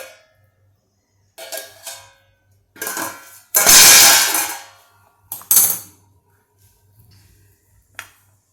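A steel plate lifted and set down in a home kitchen while cooking Maharashtrian vadas, giving a few sharp metallic clinks and clatters close by, with one louder scraping clatter in the middle and brief taps spaced apart.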